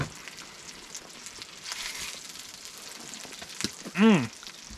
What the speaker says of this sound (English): we got the smoked salmon frying up here now in some oil